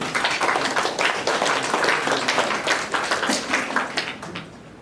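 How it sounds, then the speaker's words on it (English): Applause from the audience at a city council candidates forum, a loud, dense burst of many people clapping that carries for about five seconds and tapers slightly at the end, with no talk over it. "let's give her a round of applause"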